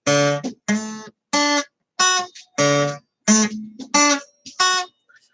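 Single guitar notes plucked one after another in a steady, evenly spaced sequence, each ringing briefly before the next, close and clear.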